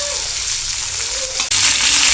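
Chopped broad bean pieces sizzle loudly in hot browned tempering oil, a steady crackling fry that briefly drops out and then surges back louder as they hit the pan; no talking.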